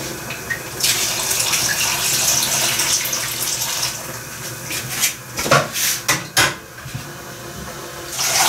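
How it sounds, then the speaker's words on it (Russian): Water runs steadily into a pot of meat in a home kitchen for several seconds, then breaks into a few splashy bursts and clinks of cookware near the end. "Воды налить в мясо."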